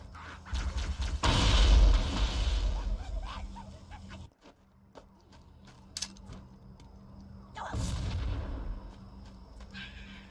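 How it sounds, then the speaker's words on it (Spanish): Explosions in the Halo video game: two loud, booming blasts, one about a second in and another near the end, with quieter game sounds between them. "solo fue una explosión normal."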